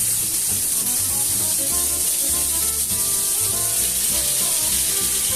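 Boneless chicken thigh sizzles skin side down in a hot pan, a steady, close, crackling fry with constant hiss and no talking.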